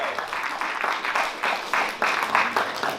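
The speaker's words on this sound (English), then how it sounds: "Give her a round of applause." An audience at an MLK tribute concert applauds, a dense, loud wash of clapping from many hands, rising and falling in waves with no voices standing out.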